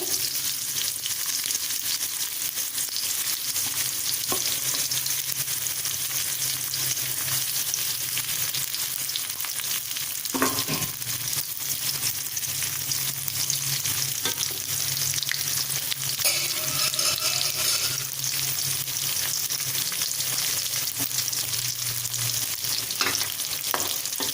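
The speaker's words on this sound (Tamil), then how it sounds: "இதில் இந்த ஆயிலே நல்லா அது ஃப்ரை ஆகட்டும் மசாலாவோட." Masala and brinjal fry in oil for ennai kathirikkai curry, a dense, continuous sizzle heard close up, with occasional stirring scrapes and knocks and no one talking.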